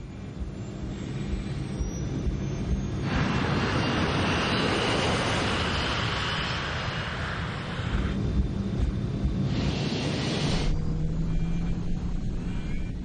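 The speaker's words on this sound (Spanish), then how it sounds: "Los pilotos levantan la nave del suelo." A Scandinavian airliner accelerates down a 2,400-metre airport runway and lifts off, its engines building to a loud, sustained roar with a broad hissing rush that swells and eases, heard without talk.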